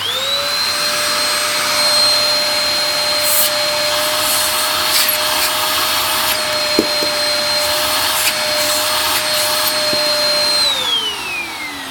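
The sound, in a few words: Dyson DC03 vacuum cleaner running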